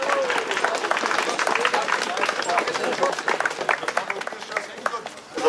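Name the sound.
crowd applause at parkrun start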